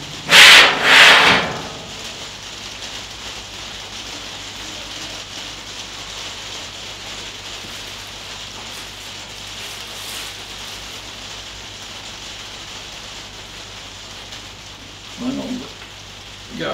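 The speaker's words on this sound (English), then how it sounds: "the rain starts getting hard" Heavy rain falls outdoors during the assembly of a gas and charcoal barbecue, a steady, moderate hiss throughout with a couple of louder rustling bursts near the start and end.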